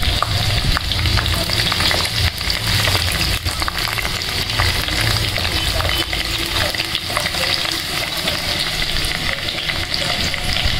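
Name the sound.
garlic frying until brown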